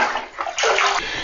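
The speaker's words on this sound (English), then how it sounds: "Simply scoop enough water with the bucket and pour it right into the bowl." Water poured from a bucket into a toilet bowl to flush it, a close, sloshing rush in two short bursts, the second fuller and longer, heard alone in a quiet indoor space.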